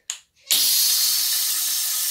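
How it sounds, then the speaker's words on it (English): A stainless steel hand-held bidet sprayer gives a short burst and then, after a brief gap, a steady loud hiss of spraying water that continues alone. "I'm going to pick up the bidet and I'm going to spray it by pushing this"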